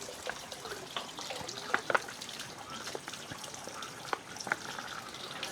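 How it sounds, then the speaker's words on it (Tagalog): Water runs from a tap into an 8-liter container at a camp, a steady, soft trickling stream with small splashy ticks and no voices. "Dito po tayo igib."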